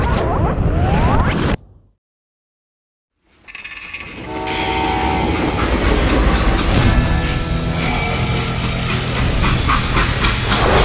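A freight train passes in the Call of Juarez Gunslinger video game: a loud rumble and rush, then a sudden gap of silence, then rolling clatter with a tonal horn-like whistle carrying to the end.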